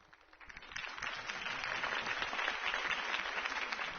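Applause from a large crowd after a campaign speech in an interactive Batman drama swells up within the first second and then holds steady as a dense, continuous wash of clapping.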